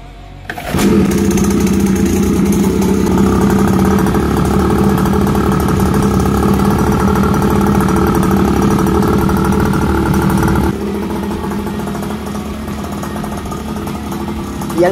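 A CRX Monster 50cc two-stroke mini trail motorcycle engine fires up and runs loud and close for a test ride, a buzzy, steady drone that drops slightly in level partway through, with no talking.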